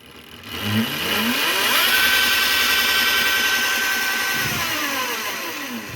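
A small electric mini bike motor spins up after a key ignition is switched on, giving a rising whine that holds for a few seconds and then slowly falls away, close and moderately loud.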